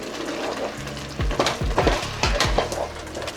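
Butter chicken mixture frying in a pan, a steady sizzle broken by several sharp scrapes and clatters as it is stirred.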